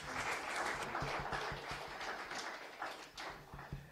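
An audience claps at a bursary award ceremony, a steady, moderately faint patter of many hands that holds for several seconds.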